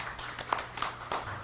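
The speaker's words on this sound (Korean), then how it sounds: "다시 한번 박수로 맞이하시죠." An audience at a real-estate forum in Korea claps to welcome a speaker. The clapping is brief, moderately loud and scattered, with a few sharper claps standing out.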